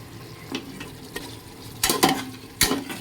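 Tomatoes frying in oil in a pan while they are stirred, with a soft steady sizzle broken by several sharp scraping stirs, mostly in the second half; no talking.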